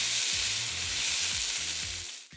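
Pork belly in a lemongrass marinade sears in a hot pan for a Vietnamese-style sticky dish, giving a loud, steady, close sizzle that runs without a break before cutting off abruptly at the end.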